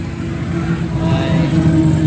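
Suzuki Hustler or Wagon R kei car engine with an R06 motor idling steadily up close, a constant low hum without talk.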